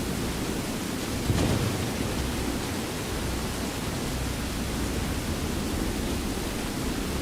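Steady, heavy rain in Skyrim hisses as a constant broadband wash, with a low rumble of thunder swelling briefly near the start and then settling back into the downpour.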